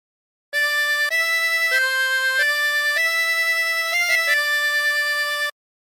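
A harmonica plays a short phrase of the hymn There is a Redeemer, a steady run of sustained reedy notes that shift pitch several times, played alone and up close for about five seconds.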